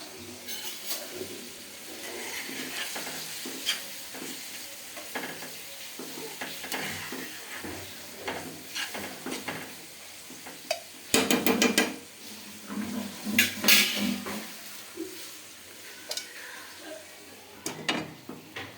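A spoon scrapes and clanks against a pan while parwal sabzi sizzles softly, with scattered metallic knocks and a louder cluster of clatter midway before the gentle frying resumes.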